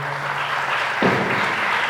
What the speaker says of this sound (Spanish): me gustaría un aplauso para los otros miembros del equipo que hay por aquí